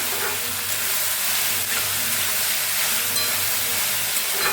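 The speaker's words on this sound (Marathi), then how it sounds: "आता मस्त तापलेला आहे बघा तूप बी आता हे त्याच्यात टाकूया हे मक्का थोडं तर भाजून घेऊया आपण" Corn kernels roasting in hot ghee give a dense, steady hiss and sizzle, close and fairly loud, holding evenly throughout with no talk.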